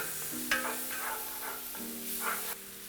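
Mixed vegetables roasting in desi ghee for a dhaba-style mix veg sabji make a quiet sizzle with a few stirring scrapes and clinks of a spoon against the pan, no voices.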